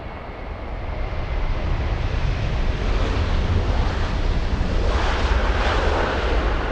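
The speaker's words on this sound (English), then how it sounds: "We have Norse 311, a 787-9 Dreamliner." A Norse Boeing 787-9 Dreamliner arriving at LAX from Paris roars past as a loud, broad jet rush that swells from the start and holds steady, blended with wind noise.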